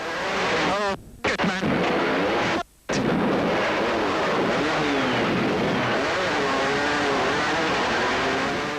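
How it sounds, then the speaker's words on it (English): A Toyota Run-X rally car tears along a Tour Natal 2003 rally stage, its loud engine howling and revving continuously with rising and falling pitch sweeps, broken by two brief dropouts. "Damso was not hanging around in stage 10 despite the jitters at the rear end of the Run-X, but driving at this pace meant that he was open to mistakes"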